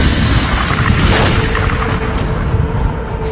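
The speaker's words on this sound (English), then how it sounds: "When a red giant star explodes, a titanic fireball known as a supernova" Supernova explosion effect for a red giant star blowing apart: a loud, deep boom with a sustained rumbling roar and a few crackling bursts over about three seconds.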